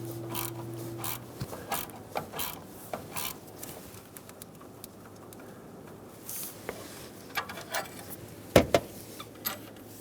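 A 15mm wrench ratchets and clicks against a bolt while working under a 2014-2018 Chevrolet Silverado 5.3L V8 during a motor mount replacement, with irregular metallic clicks and scrapes, close and moderately loud, plus a brief clank near the end.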